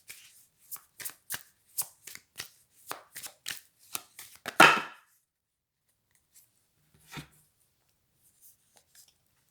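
Playing cards shuffled and handled, a quick series of crisp riffling snaps building to a longer flurry, then silence broken by a few faint isolated card taps.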